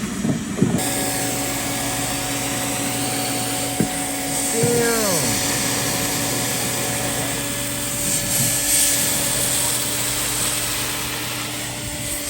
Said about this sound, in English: She's been shampooing this for over an hour, and it's still coming out dark.